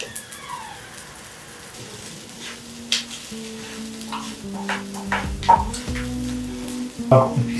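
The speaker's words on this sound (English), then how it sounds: "while this rice is toasting" Rice toasts in a hot pan with a soft, continuous sizzle, broken by stirring scrapes and a few louder clinks of utensil against pan toward the end.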